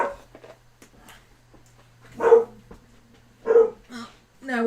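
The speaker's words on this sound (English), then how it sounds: "now we're barking at the neighbours" A dog barks indoors, three or four loud, separate woofs spaced a second or so apart, with soft handling noises between and a brief spoken word early on.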